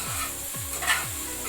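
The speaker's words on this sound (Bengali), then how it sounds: "ফ্লেমটাকে হাই করে নিয়ে কন্টিনিউয়াস স্টির করুন, তাহলে এটা 1 মিনিটের মধ্যেই সয়াবিনগুলো একটু ফ্রাইড হয়ে যাবে" Soya chunks frying on a high flame make a constant bright hiss, with three swooping scrapes as they are stirred continuously in the pan.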